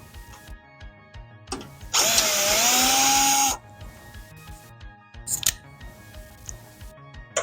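Power drill driving larger self-tapping screws during an LED headlight conversion on a Mazda B2000/B2200 pickup, one loud, steady whir of about a second and a half, close by, amid quiet clicks and handling noises.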